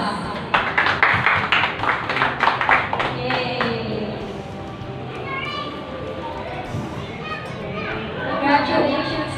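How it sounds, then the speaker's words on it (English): A crowd applauds a certificate presentation at a class outing held at a private pool in Pansol, Calamba, Laguna, with a burst of quick claps for several seconds amid excited voices, then fading into chatter. "let's give her a round of applause"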